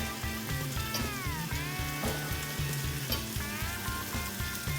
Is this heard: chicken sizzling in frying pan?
yes